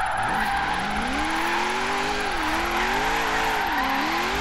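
A car drifts through a zone in Forza Horizon 3, driven with a Logitech G920 wheel. The engine drones steadily while a long tire squeal rises and falls with the slide, loud and continuous, with no voices.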